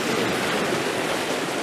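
Steady broadband wash of surf rolling in on an incoming tide near the shore, close and fairly loud, with a continuous roar and no voices.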